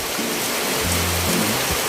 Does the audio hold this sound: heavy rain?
yes